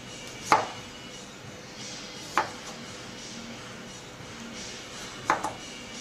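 Knife slicing ginger on a chopping board, three separate crisp chops spaced a couple of seconds apart against a quiet kitchen background, close and clear.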